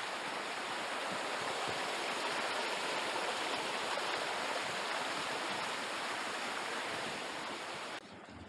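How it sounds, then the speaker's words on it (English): Stream water in Piesse Brook, Kalamunda National Park near Perth, rushes steadily and close by with a continuous, even wash that holds its level throughout, dropping slightly only at the very end. "See the water flowing?"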